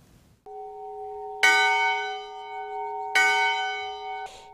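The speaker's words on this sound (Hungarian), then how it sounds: "Ez a harang egykor az erdészek munkaidejének kezdetét és végét jelezte." A foresters' old bell rung to open an outdoor family day, two loud clanging strikes a couple of seconds apart, each leaving a long ringing tone that hangs between them.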